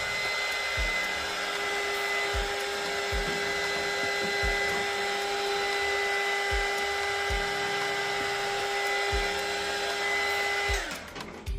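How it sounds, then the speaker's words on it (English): Heat gun blowing hot air onto double-sided tape on a light kit for an Arrma Senton 4x4 RC car, a steady close whirring roar that holds for about ten seconds before cutting off with a falling whine. "Now you take your heating gun,"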